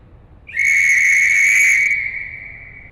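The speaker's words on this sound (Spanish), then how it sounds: "toma un silbato y lo toca" A single loud, sustained whistle blast from a whistle blown during a performance about corruption and abuse, starting abruptly and holding steady for over a second before trailing off, alone with no talking.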